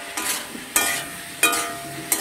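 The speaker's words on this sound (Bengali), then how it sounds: "মশলাগুলো সবজির সঙ্গে খুব ভালো করে কষিয়ে নেব" Spices being sautéed with vegetables in a pan for a rohu fish curry with green chilies: four distinct stirring scrapes at a steady pace, each followed by a brief sizzle, close and clear with no talk.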